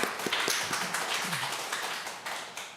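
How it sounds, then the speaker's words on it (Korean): A church congregation claps in encouragement for its choir, now singing again, at a Pentecost Sunday service. The applause is a brief, moderately faint patter with a few sharper individual claps, and the room is otherwise quiet. "박수 한번 합시다."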